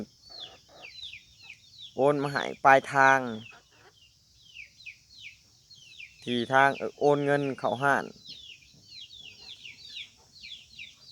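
Hens cluck and squawk in short bursts over a steady bed of chirping birds, with a voice talking between the bursts.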